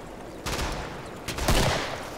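Gunfire in the co-op zombie shooter Killing Floor, two or three sharp bursts of shots in quick succession against a quiet game background.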